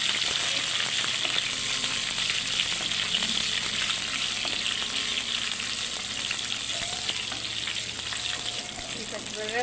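Curry leaves and green chillies fry in a hot pan, giving a loud, steady sizzle with crackling pops and occasional stirring scrapes throughout.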